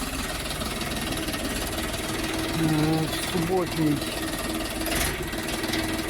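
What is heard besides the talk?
Bulat 244 truck engine running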